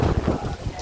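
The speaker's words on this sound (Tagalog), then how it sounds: "Ang hangin no." Strong typhoon wind buffets the microphone in a short, loud, rumbling gust with low roaring surges throughout, and no speech over it.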